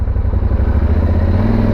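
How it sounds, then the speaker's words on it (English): A Honda CRF250 dirt bike engine rumbling close by as it passes, a steady low buzzing drone that holds through the whole stretch without fading. "Oh, here comes a bike."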